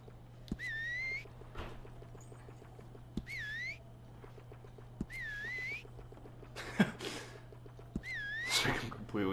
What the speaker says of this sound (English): It's like completely inept at whistling at all. It just sounds like he's pushing it air into his lips.